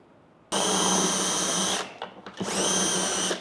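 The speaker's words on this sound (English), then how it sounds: "just drill till I hit my depth stop" A power drill whines loudly at full speed, briefly slows and stutters as it bites into wood, drilling to a depth stop while installing undermount drawer slides, then spins up again close by.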